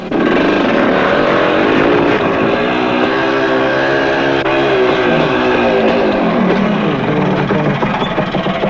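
A racing motorcycle takes a corner, its engine loud and close. The pitch dips as it shifts into low gear, then rises again as the throttle opens.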